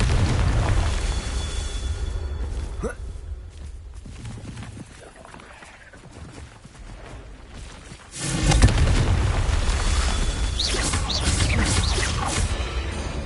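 A Confringo fire spell going off in Hogwarts Legacy: loud booming blasts with crackling bursts, a dense stretch, a quieter lull in the middle, then another heavy explosive surge near the end.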